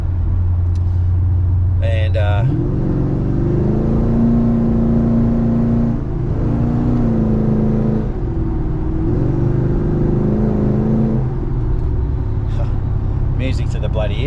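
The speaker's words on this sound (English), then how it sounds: "So that's the solo performance exhaust with the J pipes" Cammed Pontiac G8 GT with Kooks headers and Solo Performance exhaust with J-pipes, revving on a dyno: a deep idle rises into several long, loud revs that hold and fall back, with brief talk near the start and end.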